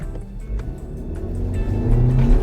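A 2020 Skoda Superb Scout accelerating in sports mode from a stop at traffic lights, its engine note rising steadily and growing louder over a couple of seconds, with low rumble and building revs.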